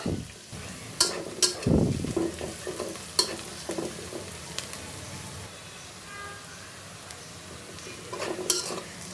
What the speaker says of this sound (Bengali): দেখো পেঁয়াজগুলো সুন্দর করে ভাজা হয়ে গেছে